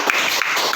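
A classroom quiz group breaks into brief, steady applause for a correct answer, a short burst of many hands clapping together at close range.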